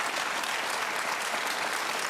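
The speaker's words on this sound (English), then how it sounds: "It's very easy to clap" A seated political audience breaks into steady, dense applause, many hands clapping at a constant level throughout, with no talk over it.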